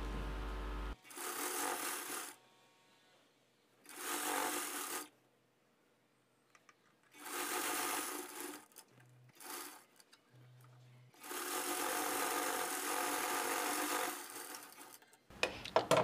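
A sewing machine stitches a size 36 boat neck lined blouse in a quiet room, running in several separate bursts of rapid stitching, with the longest run near the end, and short pauses in between.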